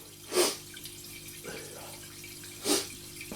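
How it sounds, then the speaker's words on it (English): Hands washed under a running kitchen tap before making cherry tomato soup: two bursts of splashing water about two seconds apart, with quieter trickles between, close and moderately loud, no talking. "I'm gonna literally wash my hands"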